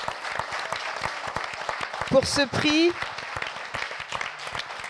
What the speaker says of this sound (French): Applaudissez encore, s'il vous plaît